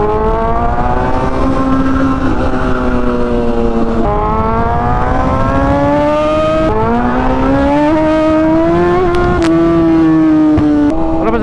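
Steady engine drone of road traffic around a sportbike rider, loud and continuous, with a tonal hum that rises and falls slowly as vehicles idle and creep along.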